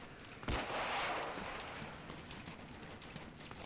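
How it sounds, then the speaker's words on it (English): AK rifle fire in the Arma military video game: a sharp loud report followed by a long rolling echo that fades slowly, heard distant and alone. "I got AK fire to the east over there, though."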